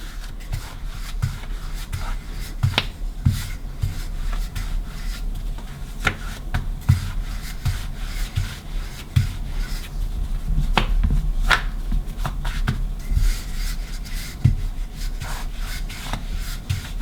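Dhal puri dough is rolled out on a floured surface in soft, repeated rubbing and knocking strokes, a steady close-up rhythm of light taps and scrapes with no talking.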